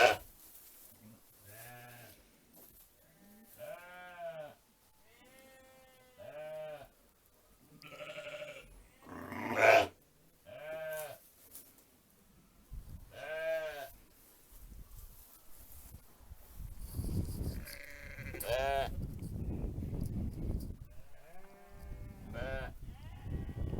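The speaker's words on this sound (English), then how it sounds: "So Marigold's just remembered where she's left her lambs." A ewe and her lambs bleat repeatedly on Fair Isle, calls close and clear with pauses between, mixed with rustling straw and shuffling toward the end.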